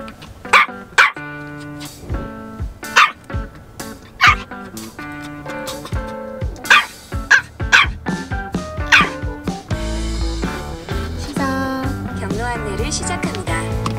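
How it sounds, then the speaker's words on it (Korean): Two small white dogs bark repeatedly on the way to a dog café, with loud close yips in bursts and people talking over them in a car while a navigation voice speaks. "짖지마, 짖지마."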